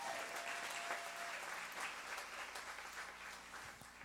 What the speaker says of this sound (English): Let's have another round of applause for them